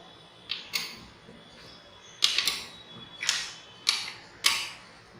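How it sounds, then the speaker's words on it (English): Metal plug keys are pushed into a resistance shunt box during a physics practical, giving about six crisp mechanical clicks, some close together in pairs, spaced over a few seconds in a quiet room. "now insert all these keys inside the shunt box"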